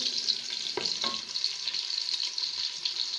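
One medium onion frying in hot oil until golden, a steady close sizzle with a couple of brief stirring knocks, no talking.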